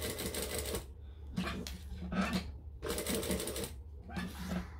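A sewing machine stitches down a zipper in short, rapid bursts of mechanical whirring and clatter, stopping and starting several times at close range.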